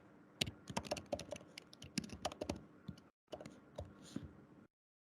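Typing code on a computer keyboard: a rapid burst of close, crisp key clicks, a brief pause, then another short run of keystrokes before silence.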